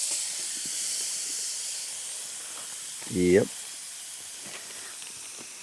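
Garlic cooking over a campfire gives a broad, steady sizzling hiss that slowly fades, and one short spoken word cuts in midway.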